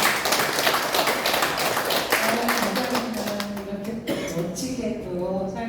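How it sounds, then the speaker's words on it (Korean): Applause from an audience welcoming an instructor to a care-education class, a dense steady patter of many hands clapping that runs throughout, with a voice speaking faintly underneath toward the end. "우리 다 같이 한번 박수로 환영하시죠"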